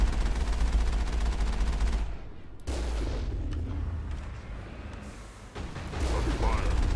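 Rapid gunfire rattles against a vehicle in the video game Mass Effect, dense bursts of shots and metallic impacts with brief lulls in between, loud and close; a person speaks during it.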